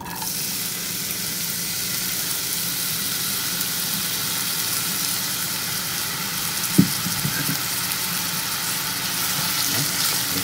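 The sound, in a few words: onions sizzling in hot oil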